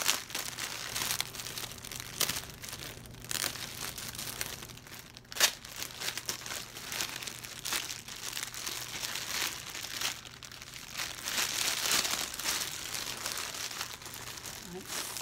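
Wrapping paper crinkling and rustling steadily while a gift is unwrapped, a close, continuous papery crackle with faint talking underneath.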